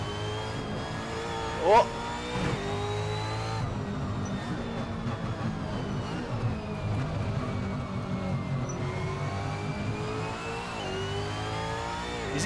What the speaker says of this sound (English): Big rev limiter bash all the way down off Skyline.